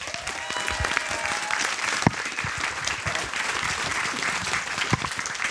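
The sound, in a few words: audience applauding Davy Mourier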